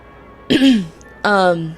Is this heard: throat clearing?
yes